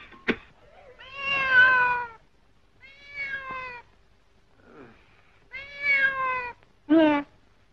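A cat meows four times, drawn-out and fairly loud, separated by short quiet pauses, with a faint sharp knock at the start and no talking.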